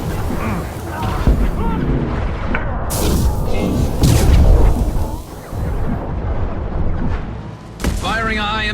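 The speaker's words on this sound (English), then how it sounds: "Firing a high-impact shot." High-impact gunfire and heavy booms from the video game Mass Effect Legendary Edition, several loud blasts crashing over a dense battle din, with voices talking through the fighting.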